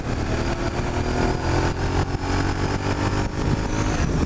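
A Suzuki SV650 motorcycle engine drones steadily in third gear at about 6,500 RPM, a loud, close, continuous buzzing roar with no speech.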